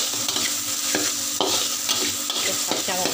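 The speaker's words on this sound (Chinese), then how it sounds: "刚才搅碎的那些材料我们先炒香它先，和那个香茅一起下去炒给它香。" Blended curry paste ingredients, salted, sizzle and scrape as they are stir-fried with lemongrass for a home-made chicken curry, a steady close crackle broken by repeated spatula strokes.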